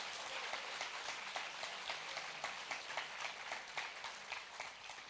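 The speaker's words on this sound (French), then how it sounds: "donc on peut aussi les applaudir" Audience applause during a live keynote at a classroom-themed conference event, a steady wash of many hands clapping at moderate distance with no speech, sustained evenly for the whole stretch.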